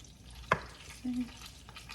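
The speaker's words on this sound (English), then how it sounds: "And that skillet is starting to fry now." Onions and celery frying in a skillet, a soft continuous sizzle with a sharp clatter of a utensil and a brief low scrape, no talking.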